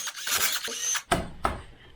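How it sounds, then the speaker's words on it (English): A vacuum pump is worked off a Land Rover TDV6 diesel engine (Ford Lion V6): a close scraping, creaking stretch, then two sharp metallic clicks as the part comes free. "Removing the vacuum pump."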